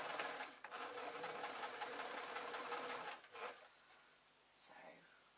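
A sewing machine stitches felt for an elephant pin cushion, a quiet continuous rapid needle clatter for about three seconds that then stops, leaving a few soft handling rustles.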